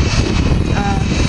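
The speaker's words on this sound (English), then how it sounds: "coming around here for a flyby" An RC F-18 jet with a 70mm electric ducted fan roars past in a loud, whooshing flyby, its high whine filling the short burst outdoors.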